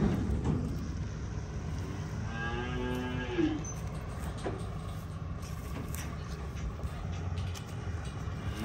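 Cattle on a farm moo near trailers, one long, drawn-out low call standing out over a steady rumbling background that continues throughout, with no talk.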